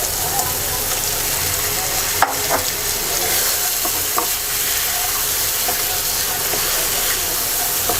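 Hilsa fish pieces go into a masala frying with potato, cauliflower and tomato, a loud continuous sizzle and hiss broken by a spoon clank and occasional stirring scrapes.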